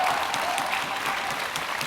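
Steady, dense applause from an esports audience at the H1Z1 Invitational, filling the whole stretch at an even level with no talk over it.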